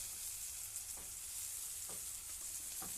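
Spice paste with chili and turmeric frying in a pan as a faint, steady hiss, with a few soft stirring scrapes scattered across it.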